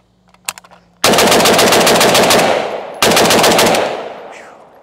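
An AK47 rifle on gas setting 1 with no muzzle brake fires two long, very loud full-auto bursts at close range. Each burst is a rapid chatter of cracks with a ringing echo, and a few faint clicks come before the firing.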